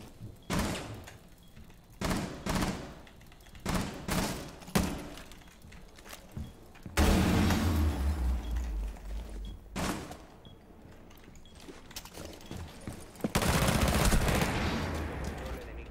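Gunfire in Rainbow Six Siege (Phantom Sight season) comes in sharp separate bursts over about sixteen seconds, with two longer, louder rattling stretches of rapid fire between quieter clicks and movement sounds.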